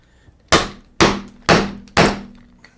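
A chisel struck hard with a mallet four times at a steady, even pace, each blow a sharp, close wooden knock with a short ringing decay, cutting a mortise in a workpiece clamped in a vise.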